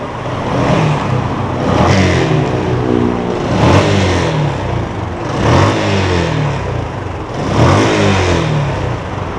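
A stock Yamaha X1R 135 motorcycle with its original exhaust header revs up close by in repeated bursts, the engine rising and falling roughly every two seconds in a loud, steady rhythm.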